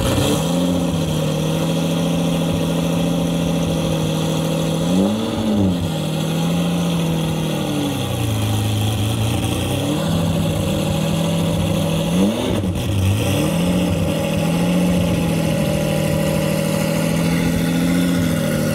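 A 1987 Ferrari Testarossa engine runs loud and close, holding a steady idle broken by a few quick revs that rise and fall, with no talking.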